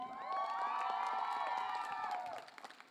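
Audience cheering and whooping at a college cultural night for the event team, a loud, sustained crowd roar with shouts, tapering off near the end; clapping is not clearly distinct within the roar.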